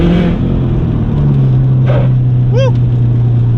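A 2004 Subaru WRX STI is driven at speed, heard from inside as a loud, steady engine drone and road roar, with a short squeak and brief voice sounds over it.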